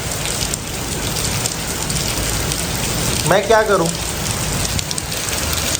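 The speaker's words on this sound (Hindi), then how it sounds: "इतनी ज़्यादा बारिश है" Heavy rain pours down in a dense, steady hiss close by, with a person briefly speaking over the downpour.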